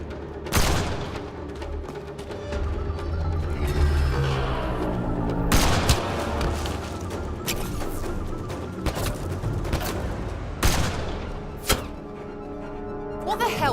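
Gunfire from a Mass Effect Andromeda firefight against a sniper, with repeated sharp shot bursts and impacts over a dense rumbling battle bed and musical score.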